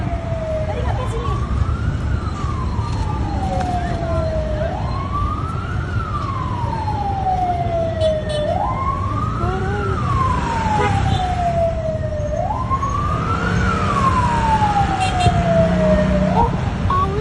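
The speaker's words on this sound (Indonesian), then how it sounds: "Ini pemadam kebakaran." A fire engine siren wails in repeated rising and falling sweeps, loud and steady over a busy street at a fire, with traffic rumbling underneath and people talking nearby.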